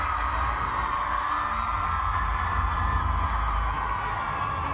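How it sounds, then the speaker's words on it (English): A dense crowd cheers and shrieks for J.K. Rowling along the red carpet at the Harry Potter Deathly Hallows Part 2 premiere, a loud continuous roar of voices without pauses. "listen to the crowds for J.K."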